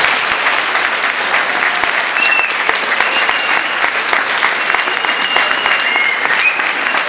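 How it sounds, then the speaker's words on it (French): A large convention audience at the Toulouse Game Show opening ceremony gives sustained, dense applause. Loud clapping fills the whole stretch at an even level, with faint crowd voices mixed in. "Donc je vous demande de les applaudir une dernière fois."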